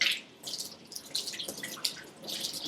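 Tap water splashes off hands into a sink during handwashing, a faint, close, uneven patter of trickles and drips with no talking.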